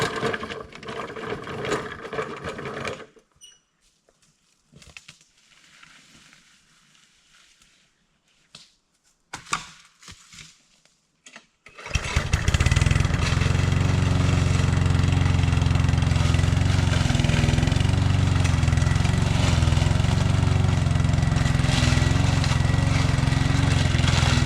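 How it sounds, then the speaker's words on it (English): A gas lawn mower sputters to life midway after quieter rustling, then runs loud and steady right up close while mowing rocky ground, its engine drone continuous to the end. "I'm gonna start mowing a little bit and see what I can get done."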